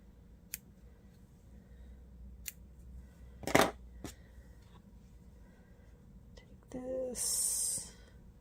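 Scissors snip through excess fabric while finishing a cross-stitch block; a few crisp, close snips near the start and middle, followed by a brief louder rustle and hiss near the end in a quiet room.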